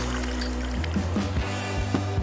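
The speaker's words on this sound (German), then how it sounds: "Ich gieße einfach die warme Milch über die Schokolade, damit sie schmilzt." Warm milk is poured over chocolate, probably in a shaker, for a dessert: a steady close trickle and splash of liquid over a low constant hum, with no talking.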